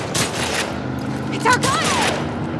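Rifle fire from hostile psychos in The Last of Us Part II, bursts of shots crackling at mid distance under loud ambient game noise, with a character voice calling out over it.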